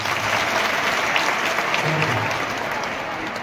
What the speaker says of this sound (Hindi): इसके लिए जोरदार तालियां।